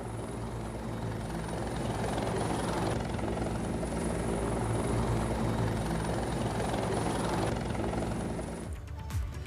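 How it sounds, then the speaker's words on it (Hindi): A helicopter comes in to land on a helipad, its loud, steady rotor thrum sustained throughout before cutting off abruptly at the end. "लैंडिंग से ऐन पहले हेलीकॉप्टर की तेज आवाज और धूल के उड़ते गुब्बार के बीच"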